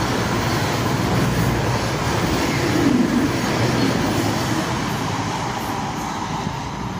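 Voyager passenger trains roar past at Dawlish, a loud, steady rush of wheels and engines close by that holds for several seconds and eases slightly toward the end.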